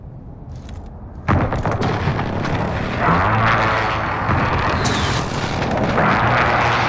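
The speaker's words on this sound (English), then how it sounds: "Enemy precision airstrike inbound." Precision airstrike in Call of Duty: Modern Warfare, a sudden heavy blast followed by rolling explosions and rumbling impacts, loud and sustained over several seconds without speech.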